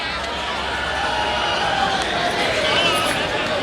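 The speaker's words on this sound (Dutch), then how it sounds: "Mogen nog een groot applaus voor Katja Henz" An audience applauds for performer Katja Henz at a Limburg carnival (Vastelaovend) Boetezitting session in Munstergeleen: a dense, steady roar of clapping and crowd noise lasting throughout, with voices mixed in.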